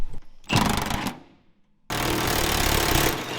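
A 1/2 inch impact wrench hammers on fifth wheel rail bolts on a truck bed, one loud rattling burst, a pause, then a second sustained burst, close and alone.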